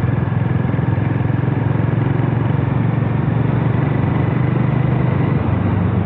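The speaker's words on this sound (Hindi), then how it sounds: "साउंड भी बहुत ही बेहतरीन सा आता है, एकदम बम्पी और बेसी साउंड है बाइक का।" Harley-Davidson X440 motorcycle engine running steadily at close range, a loud, bassy, thumping drone with an even pulsing rhythm that holds throughout, with no voices over it.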